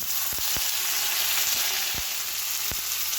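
Onions fry in a pan for a pasta dish, a close, steady sizzling hiss broken by a few sharp low knocks of a utensil against the pan.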